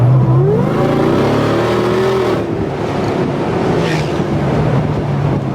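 Supercharged V8 Mitsubishi Pajero Evolution revving hard and pulling away, engine note climbing then holding under wind rush, loud and close.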